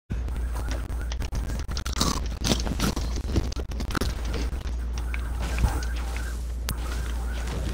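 Close, loud crunching of chips chewed right against a microphone, a rapid irregular run of crisp bites and grinding with a low steady hum underneath.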